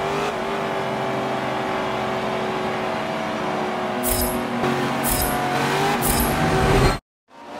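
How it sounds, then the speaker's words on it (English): Race cars at Homestead-Miami Speedway in the Forza 7 racing game, a dense roar of engines building as the field pulls away, with surging revs near the end before the sound cuts off abruptly. "Green flag, and the drivers are off."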